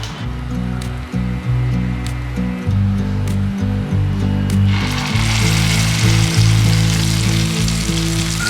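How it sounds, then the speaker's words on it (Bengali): Poppy seed fritters (bora) frying in a pan of oil, a steady loud sizzle with low bubbling, growing brighter and hissier partway through as fresh batter hits the oil. "এবার বড়াটা ফ্রাই করে নেবো"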